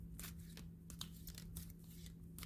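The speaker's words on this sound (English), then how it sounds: "Now, let's see how these are going to be to shuffle. Okay, I may shuffle them this way." A deck of Visionary I Ching cards is shuffled by hand, giving quiet, repeated papery riffles and crinkly flicks in an uneven rhythm.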